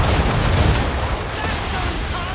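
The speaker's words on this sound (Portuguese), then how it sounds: "Lá vem tiro." Cannon fire in a pirate ship battle in Assassin's Creed, heavy booming blasts blurred into a dense, loud roar with the low crash of shots dominating the short stretch.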